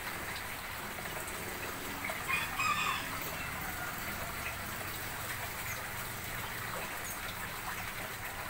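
Chickens cluck and a rooster crows around a lovebird setting, a steady barnyard murmur with a brief louder burst of calls near the middle, no talking.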